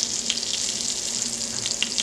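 Spinach ricotta ravioli pan frying in butter, a steady, fairly soft hiss of sizzling fat that carries on evenly without a break.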